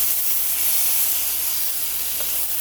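Garlic and lemon chicken cooks in a pan, giving off a steady, bright sizzling hiss that stays loud and unbroken, close up with no talk.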